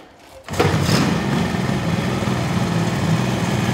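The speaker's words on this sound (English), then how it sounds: "I'm gonna fire her up, ride her one more time." A 1974 Kawasaki H2 Mach IV two-stroke motorcycle engine fires up after a brief quiet moment, then settles into a loud, close, continuous buzzing idle with no talk.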